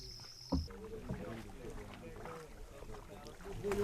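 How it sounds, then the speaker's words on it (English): Paddle boat moving through a shallow marsh toward an island, with soft water swishes and paddle strokes under a voice talking throughout and a bump near the start. "all travel to and from the island is by paddle boat, like these ones"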